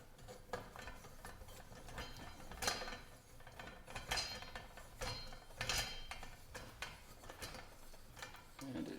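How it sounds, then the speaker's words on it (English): Metal parts of an AGM 3927 World War II military lantern being threaded together at the valve, giving repeated small clicks, ratcheting scrapes and light metallic knocks close up, with no talk. "this threads into that loop in the back of the valve."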